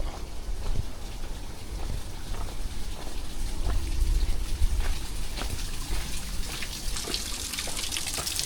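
Steady rain patters and drips on surfaces nearby along a hiking trail above Aberdeen reservoirs in Hong Kong, a continuous hiss with scattered louder droplets throughout.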